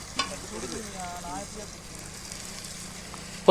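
Whole spices such as cinnamon, cloves, cardamom, bay leaf, star anise and fennel fry in oil with onion for chicken curry, a faint soft sizzle heard under a voice.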